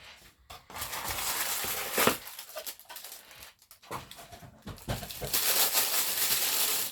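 Paper and plastic packaging torn and crinkled off an action figure: irregular close rustles, crackles and rips in uneven bursts, fairly quiet, with no talking.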